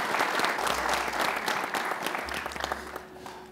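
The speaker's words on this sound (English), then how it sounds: "Please give them a nice round of applause." A conference audience at an energy economics session gives a short burst of dense, steady clapping that fades slightly toward the end.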